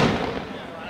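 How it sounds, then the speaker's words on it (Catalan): A Falles castell fireworks display bursts in Valencia, a loud explosion at the start decaying into crackling rumble, with excited voices nearby. "Marc, fixa't com explosiona"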